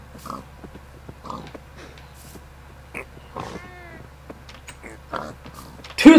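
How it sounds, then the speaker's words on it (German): Pigs grunt and oink in Minecraft, with several short soft calls scattered over a low steady background hum and a louder burst at the very end. "kommen wir hier mal zu den Schweinen"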